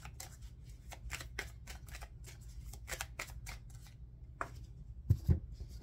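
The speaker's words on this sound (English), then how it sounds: "Let me get the rest of cards." Tarot cards handled, shuffled and drawn from a deck, a series of crisp close flicks and slaps in quick irregular bursts, with a few soft thumps near the end.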